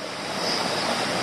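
Steady rushing flow of a creek beside a campsite, a continuous broadband wash with no breaks, fairly loud and close, with no talking.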